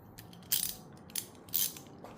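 Ratchet with a 10 mm socket working on a Lexus RC350 tail light, three quiet, quick clicking runs of the pawl spaced about half a second apart, close by.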